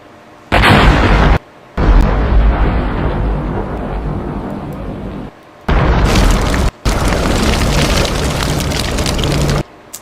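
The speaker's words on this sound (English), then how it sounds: "Explosion, exactly" An explosion sound effect: four loud, rumbling booming blasts in a row, each sustained for a second or more and separated by brief silences, with no voices.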